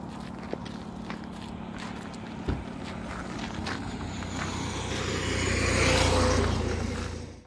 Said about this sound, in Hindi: आप यहाँ पर देख सकते हैं कि हमारा इंजन चालू है